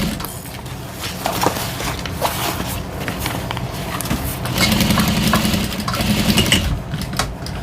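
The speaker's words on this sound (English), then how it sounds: "I'm just going to baste this on, making sure I'm catching all the layers." A sewing machine bastes through several fabric layers for a water bottle holder, running as a steady continuous mechanical whir with small clicks throughout.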